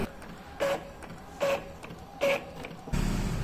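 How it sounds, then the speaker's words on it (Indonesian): An Epson printer prints a test page after a fix for white streaks: three rhythmic whirring carriage passes with a faint tone, followed by a steady mechanical paper-feed rumble, close and clear. "Coba kita tes sekali lagi print."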